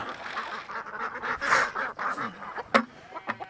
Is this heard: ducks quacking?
yes